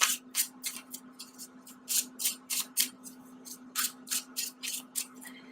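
Rapid bursts of crisp riffling from a deck of tarot cards being shuffled, over a dozen quick fluttering flurries close to the ear, alone without talk.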